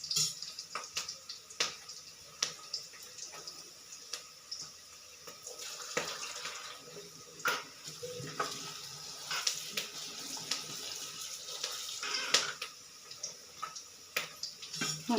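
Tap water runs and splashes while food is rinsed at a kitchen sink, a close, steady flow broken by irregular drips, clinks and splashes as items are handled.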